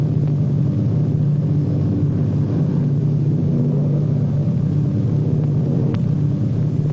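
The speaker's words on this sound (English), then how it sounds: "Our pilot brings his plane in to a smooth landing." A propeller airplane, seen in 1948, comes in to land at an airport. It gives a steady, loud engine drone and rumble throughout, with no break or clear rise or fall.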